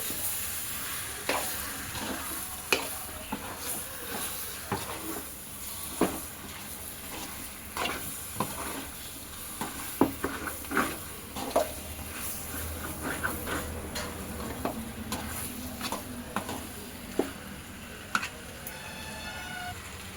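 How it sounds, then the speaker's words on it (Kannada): Chicken fries over a low flame in a pan with a soft, continuous sizzle, broken by regular sharp clicks and scrapes of stirring, fairly faint and close, with no speech. "ಈಗ ಫ್ರೈ ಮಾಡ್ಕೊತಾ ಇದ್ದೀನಿ"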